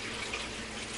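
Water pours steadily into a Black & Decker rice steamer, a close, even rushing splash with no pauses, moderately loud throughout.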